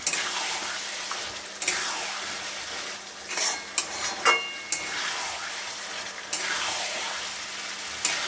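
Spices being stirred and fried in a pan at home, a steady close sizzle with intermittent scraping strokes of a spoon against the metal and a few sharper clinks, no voices.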